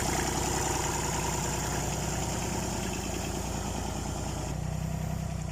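A farm tractor engine runs steadily at a low, even idle, close and loud with no pauses, while being set up for driving on a concrete road toward a village.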